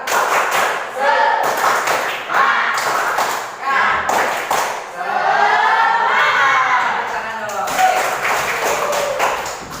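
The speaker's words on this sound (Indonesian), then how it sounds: "Ayo kita semua tepuk tangan." A classroom of students doing a rhythmic spirit clap together, bursts of synchronized clapping interleaved with chanting and shouting voices, close and loud.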